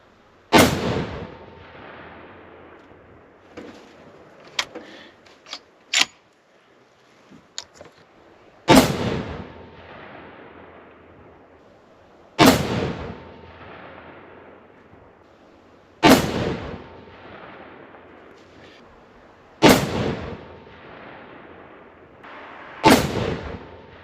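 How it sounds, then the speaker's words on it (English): Rifle firing hot rod cartridge ammunition outdoors, six loud sharp gunshots spaced several seconds apart, each with a ringing decay, after a few softer handling clicks at the start. "I'm going to shoot one more."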